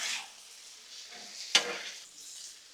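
Carne asada rice is mixed on a Blackstone griddle, a soft steady sizzle broken by one sharp metallic scrape of a spatula midway, close by with no talking.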